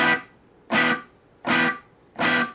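Four short, choked guitar chord strums opening a song, each cut off abruptly, evenly spaced with brief silences between them, close and clear.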